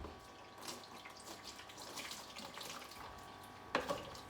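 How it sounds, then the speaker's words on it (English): Water runs from a kitchen tap in a soft, continuous stream, fairly faint, with a brief splash of something rinsed under it near the end. "I turn on my tap."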